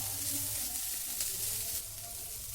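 Chicken masala mixture with onions and chilli sizzles steadily in a pan while being stirred, a continuous close frying hiss with soft scraping, no voices.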